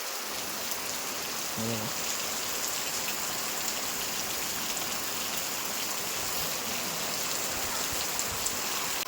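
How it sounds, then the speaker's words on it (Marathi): Heavy rain pours down steadily, a dense, even hiss of drops on surfaces that holds at a constant level for the whole stretch, with no talking. "इकडे खूप पाऊस आहे"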